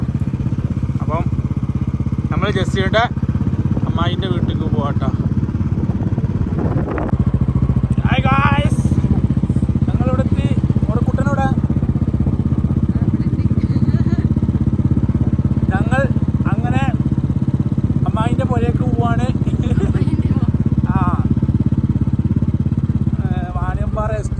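A motorcycle engine drones steadily throughout a ride from Malappuram to Thrissur, with voices talking loosely over the running motor.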